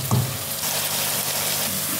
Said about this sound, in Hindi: ये इससे पहले मैंने खड़े मसाले डाले हैं, अब इसमें ये भून के इसको ज़रा रोस्ट हो गया है